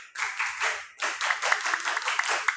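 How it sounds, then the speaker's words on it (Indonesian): A seventh-grade class does the rhythmic scout clap together, with quick patterned bursts of many hands clapping at once, close and lively in a classroom. "Tepuk pramuka."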